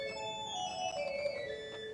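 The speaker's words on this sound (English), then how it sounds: "And a 2-foot stop sounds like this." Bright, high-pitched pipe organ tone on a 2-foot stop, steady sustained notes with a thin whistling edge, played alone and fairly soft throughout.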